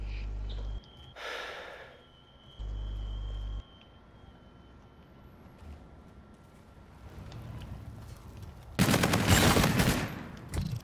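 Bursts of gunfire from a Call of Duty match: a couple of short blasts early on, then a dense, loud volley of shots near the end over a steady game soundscape.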